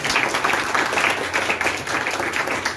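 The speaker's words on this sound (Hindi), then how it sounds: "तो एक बार दोबारा से तालियां बजाओ" A crowd at a direct selling seminar applauds steadily, dense clapping filling the room at a constant loud level throughout.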